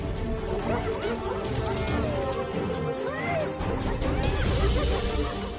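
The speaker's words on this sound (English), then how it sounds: "But the hyenas grow in number, their eerie laughter cutting through the mist" Spotted hyenas whoop, whine and cackle in overlapping calls while surrounding a lioness in misty wild terrain, a dense chorus of rising and falling cries over a low background of rustling and noise.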